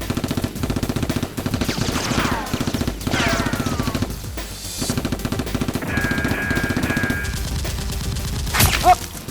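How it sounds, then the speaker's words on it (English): Rapid bursts of Nerf blaster fire in a staged outdoor Nerf battle, crackling in repeated volleys across the scene with a few sharper bangs toward the end. "Rose steps out and starts shooting at Sikman, forcing him to dodge"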